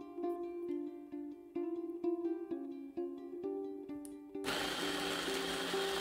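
A kitchen chopper bursts into a loud whirring grind as it pulses fish mandhi ingredients with lemon juice and salt, entering abruptly after several seconds of tonal chimes.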